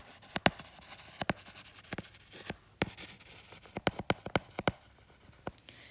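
A pen writes out a definition for a class on fire management in disaster management, giving sharp, close scratching strokes in uneven bursts separated by short pauses.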